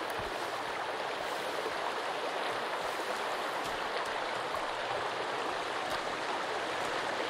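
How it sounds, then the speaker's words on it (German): Steady rushing of a waterfall and flowing stream in the survival video game Sons of the Forest, a continuous broadband wash holding at an even level with no voices. "Da ist noch ein Wasserfall."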